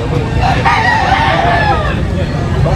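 A Hatch Gray stag rooster crows once in a short, loud call at a game farm, close by with faint background noise.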